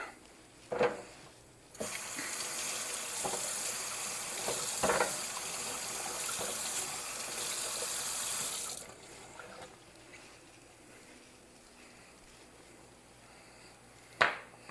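A kitchen tap runs steadily into a sink for several seconds while squash and zucchini are rinsed, a loud close gush with brief knocks before and after.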